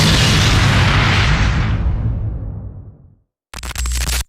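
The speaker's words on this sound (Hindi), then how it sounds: "भगत सिंह और बातुकेश्वर दत्त ने बम फेंका" Bomb explosion sound effect: a heavy deep boom with a long rumbling decay that fades out over about three seconds, followed after a short gap by a brief burst of harsher crackling noise.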